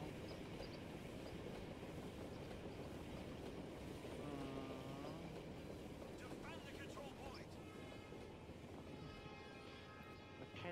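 A train moves through a VR Battlefield-style first-person shooter with a steady rolling rumble and faint clatter, and a brief horn-like tone sounds midway. Players talk over the engine noise.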